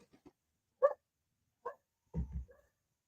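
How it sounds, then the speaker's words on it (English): Several dogs bark in short separate bursts at a moderate distance, with a longer, rougher double bark near the end and quiet gaps between calls. "I better go find out what the dogs are doing."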